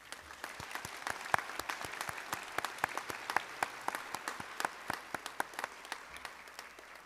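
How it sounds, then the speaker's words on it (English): Audience applause at a high school senior honors night, a steady patter of many hands clapping at moderate distance, with distinct sharp claps standing out above the crowd throughout. "one more round of applause for them"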